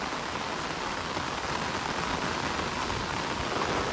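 Rain falling by the Chemmadam river, a dense, steady hiss of drops on surfaces, constant and fairly loud throughout with no voices or breaks.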